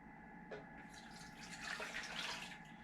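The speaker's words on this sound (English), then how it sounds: "you add the warm water." Warm water pours from a tap for bread and bun dough, a faint, soft trickle and splash that grows a little fuller toward the end, with no voices.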